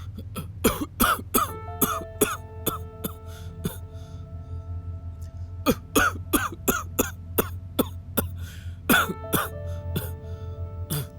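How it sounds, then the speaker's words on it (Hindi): Repeated short coughs in uneven bursts, some paired, close up over a low background hum. "खांसी करो।"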